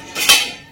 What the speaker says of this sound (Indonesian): Ininya panci ini bisa kita gantungin di sini.